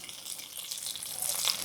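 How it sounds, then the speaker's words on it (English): Garlic sizzling in a frying pan on a home stove, a faint, steady hiss and crackle of hot oil heard alone without talking. "can you hear that sizzling?"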